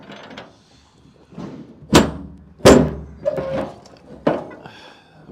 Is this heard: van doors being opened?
yes